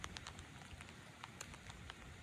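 Rain patters on surfaces around an outdoor swimming pool as a faint, steady hiss with scattered drop ticks and no speech.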